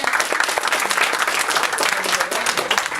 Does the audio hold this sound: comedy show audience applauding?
yes